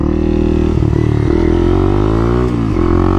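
Supermoto motorcycle engine held at a steady loud drone with small rises and dips in revs, close and continuous for the whole stretch, with no voices.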